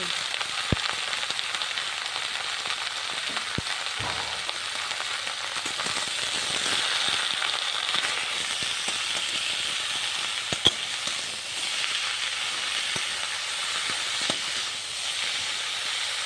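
Mourala fish and gourd shoots cook in a pan with turmeric and salt, giving a steady, close sizzling hiss that runs throughout with a few faint clicks and no talking.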